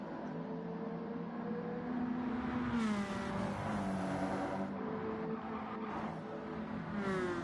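Stock cars race past on an oval track, their engines droning and rising and falling in pitch as they pass, sounding fairly distant beneath a steady background.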